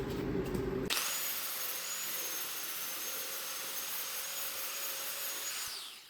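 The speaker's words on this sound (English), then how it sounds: "Now I ground it perpendicular" A power grinder screams at high speed against the rusted metal of a 1994 Mazda MX5 Miata door, starting abruptly and holding a loud, steady whine with a sustained tone before spinning down at the end.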